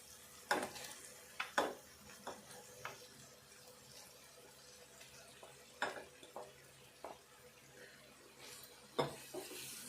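Egg powder is stirred into a frying pan for an egg curry: quiet, scattered spatula scrapes and taps over a faint sizzle, with several short sharp strokes spaced across the stretch.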